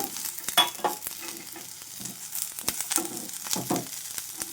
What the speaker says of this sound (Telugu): కొన్ని అటు ఇటు కాసేపు ఫ్రై చేసుకోవాలి వీటిని